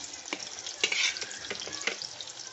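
Mashed, softened papaya hits a hot pan with a close, steady sizzle, punctuated by a few scraping stirs of a spoon against the pan; no one talks.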